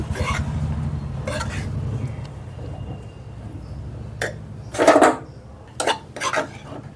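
A pan of cabbage curry with chopped coriander being stirred: a steady low scraping and rustle runs throughout, with a few sharp clinks of a spoon against the pan near the end, close and moderately loud, with no talking.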